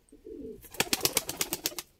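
A pigeon coos softly nearby, a low murmur followed by a quick rhythmic series of about nine pulsing coo notes.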